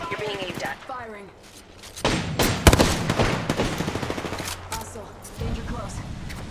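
Guns fire in a firefight in the battle royale game Apex Legends: a rapid burst of loud, close automatic shots, then scattered single cracks fading out, with a character's voice lines over parts of it.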